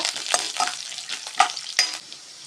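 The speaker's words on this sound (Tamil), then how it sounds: "எல்லாமே பொன் வறுவலாக வறுத்துக்கலாங்க" Crackly sizzling of cashews and lentils frying golden in hot oil with a few scraping stirs, moderately close and steady, no voices.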